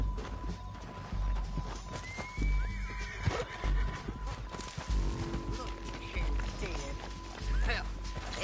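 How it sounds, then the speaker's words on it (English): A horse whinnies over the clatter of hooves and a busy mix of effects, with a steady electronic tone running underneath, in the video game Red Dead Redemption 2. "We need our horses."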